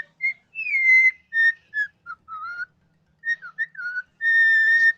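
A pet bird whistles a song, a run of clear, pure, sliding whistled notes in short phrases with brief pauses, close and loud against silence.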